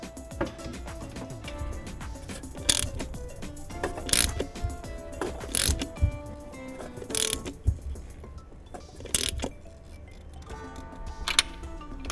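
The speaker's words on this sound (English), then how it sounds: "Now I have to use a 3-inch extension and this long socket to tighten the nut at the bottom of the alternator." A ratchet on a 3-inch extension and long socket tightens the nut at the bottom of a car alternator, giving bursts of rapid clicking with metallic knocks, close and fairly loud, no speech.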